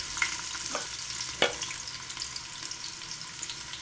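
Onions fry with salt in a pan, giving a steady close sizzle with a couple of sharp clicks of a utensil against the metal near the start.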